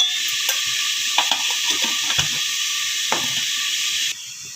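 Vegetables coated with chili powder and sambar powder stir-fried in hot oil in a pan for vegetable sambar, a steady close sizzle and hiss with scraping stirs, the sizzling dropping quieter near the end.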